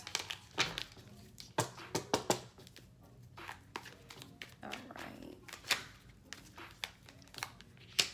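Tarot cards being shuffled by hand, giving irregular crisp riffles and slaps with brief papery bursts between quieter pauses, close up.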